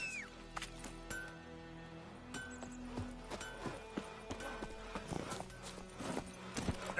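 Roach the horse from The Witcher 3 trotting: a close, rhythmic run of hoof clip-clops quickening over the stretch, with a brief whinny and game sounds around it.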